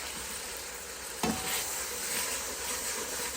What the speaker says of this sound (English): Stir that around in that garlic.